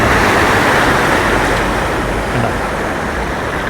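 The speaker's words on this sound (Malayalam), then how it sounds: "ഈ പറമ്പ് കംപ്ലീറ്റ് പറമ്പിൻ്റെ ഉള്ളിൽ കൂടെ വീടിൻ്റെ ഉള്ളിൽ കൂടെ ഒക്കെ ചിറ നിറഞ്ഞ് വെള്ളം പോയിക്കൊണ്ടിരിക്കുകയാണ്." Heavy floodwater after torrential rain rushes through a yard and around a house in Puthur, Thrissur, a loud steady roar that fills the whole stretch without pause.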